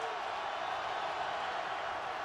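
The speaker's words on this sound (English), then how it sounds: "The crowd is deafening." Loud, unbroken crowd roar fills a stadium during a Patriots at Bills NFL game, a thick sustained wash of cheering voices that stays level throughout.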